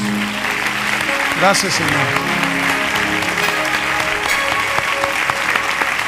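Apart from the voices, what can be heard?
church congregation applause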